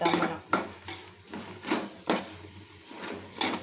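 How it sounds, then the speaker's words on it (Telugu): Tomato pieces are stirred in a pot for chicken biryani, heard as soft repeated scraping and knocking of a spoon against the pot in uneven strokes over a low sizzle, close by, with no speech. "మగ్గేదాకా కానీ అడుగంటుకోకుండా మనం కలుపుకుంటూ ఉండాలి మధ్య మధ్యలో"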